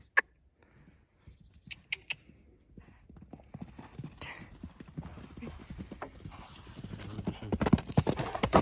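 Horse hooves clip-clop on hard ground at an equestrian show, starting faint and sparse, then growing louder and quicker as the horse, a young stallion, draws nearer.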